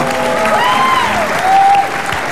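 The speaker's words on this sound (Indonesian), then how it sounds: "Tepuk tangan tuh Pak Wito." Studio audience applause for Pak Wito on a television comedy talk show, a continuous rush of clapping with a loud voice calling out over it.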